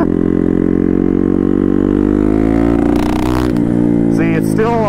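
A turbocharged Honda Grom motorcycle with a swapped-in CBR engine revs loud and close, a rising and falling engine note carried throughout, with a voice speaking briefly near the end.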